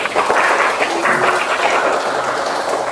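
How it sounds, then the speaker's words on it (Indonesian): A classroom of students claps for classmates after their presentation, a dense, steady patter of many hands close by that holds at an even loudness for the whole stretch. "tepuk tangan dulu untuk kawannya"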